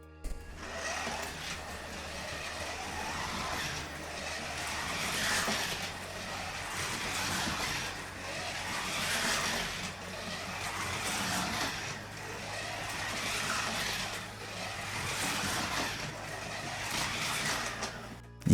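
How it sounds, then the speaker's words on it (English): A Scalextric slot car set up like a national hot rod circuits the track, its small electric motor whining in repeated swells as it nears and passes, fairly faint with a steady low hum beneath. "we'll go back to the track and see if we've made it a bit more like hot rod racing"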